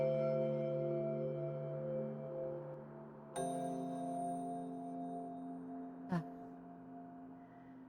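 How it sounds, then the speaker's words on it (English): Bell with sustained harmonic tones ringing steadily, then a sharp new strike renews it partway through, and a brief swooping tone cuts in near the end. Loud and close, with a song playing and no talk. "That is a loud bell."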